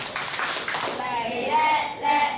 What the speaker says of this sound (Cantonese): 俾掌聲好唔好啊